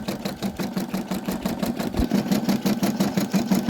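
A sewing machine stitches an embroidery design in a fast, steady rhythmic chatter, the needle strokes close and even throughout with a low motor hum underneath.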